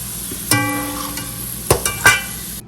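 Onions frying in oil for Mughlai chicken handi, a steady sizzle with a few sharp clanks of a utensil against the pan.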